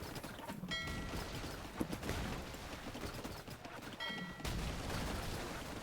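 War Galley ships firing in an Age of Empires match, heard as repeated muffled volleys and impacts mixed into dense game sound with no speech.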